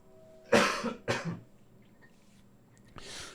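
Two sharp coughs close together, followed after a pause by a third softer cough, nearby and with no talking.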